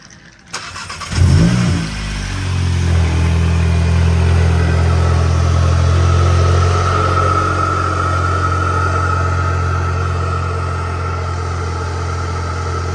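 A VW Golf MK8 GTI engine cranks briefly and starts with a rising revving flare, then settles into a steady, loud, close idle after a front-mount intercooler install.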